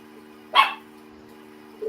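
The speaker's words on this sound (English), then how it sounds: "I heard a dog." A single sharp bark from a Chihuahua, fairly close and alone, followed by quiet with a faint steady hum underneath.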